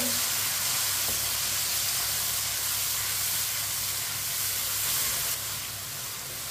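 Ground tomatoes with finely chopped green chillies cook in a pan for ridged gourd (tinda) sabzi, giving a steady, even sizzle and hiss throughout with no pauses or voices.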